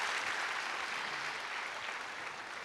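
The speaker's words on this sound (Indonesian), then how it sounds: "Beri tepuk tangan yang meriah buat Tuhan." A church congregation applauds during a sermon, a broad, even wash of clapping from many people in a reverberant hall, moderately loud and sustained without any voices on top.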